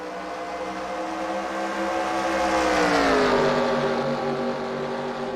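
Simulated stock cars roar in a race in the eNASCAR Heat video game, a loud, steady engine drone with a rising then falling pitch sweep as cars pass near, with no voices.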